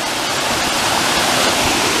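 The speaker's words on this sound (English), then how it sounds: "Look at this waterfall." A waterfall seen on a hike gives a steady, loud rushing roar of falling water, close and unbroken throughout with no voices.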